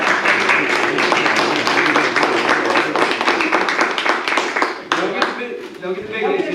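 Audience clapping at a city council meeting, a brief burst of close hand claps with people talking over and around it as it fades.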